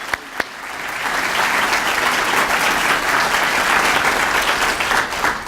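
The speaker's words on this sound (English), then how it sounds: "So if we can just give Deanne a round of applause." Steady, full audience applause fills a banquet hall at a chamber of commerce annual dinner and award ceremony, loud and sustained after a couple of sharp opening claps.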